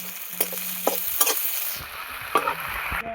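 Garlic, onion, ginger and tomato fry together in a pan for a lote fish vegetable dish, with a gentle steady sizzle and intermittent spatula scrapes and taps against the pan.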